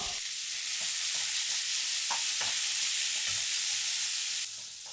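Sliced onions with green chillies and curry leaves sautéing in hot coconut oil, a loud continuous sizzle with occasional soft stirring scrapes, easing slightly near the end.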